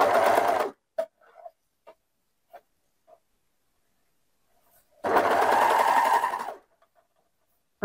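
Two bursts from a domestic sewing machine stitching the shoulder seam of a girl's dress, sewn from the sleeve edge in toward the neckline, each run lasting about a second or more, with small clicks and handling between them.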